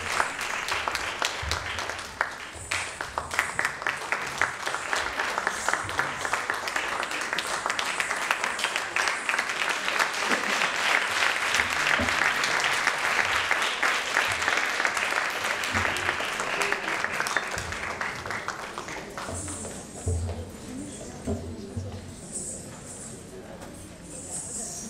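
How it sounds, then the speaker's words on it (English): An audience at an Odissi dance festival applauds dance artists with sustained, dense clapping that swells, holds for many seconds, then fades away into a quieter room near the end. "Please give a round of applause for Pritika Krishna Kumar."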